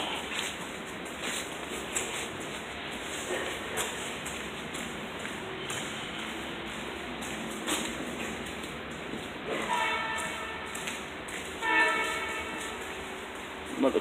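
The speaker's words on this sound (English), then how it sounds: "Another train coming in." A Long Island Rail Road train, a Jamaica train, pulls into a station with a rolling, clattering rumble, a sounded horn and screeching wheels late on, heard from some distance alongside station ambience.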